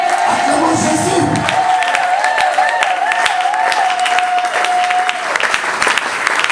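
Church congregation acclaiming and applauding, loud sustained clapping mixed with cheering and ululating voices, a long held tone gliding through the crowd noise, continuous throughout.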